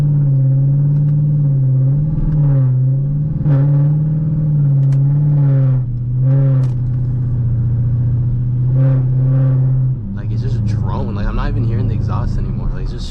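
Deep, steady exhaust drone heard from inside the cabin of a straight-piped 2013 Dodge Durango R/T, loud and continuous with brief swells, then a rougher, busier rumble near the end.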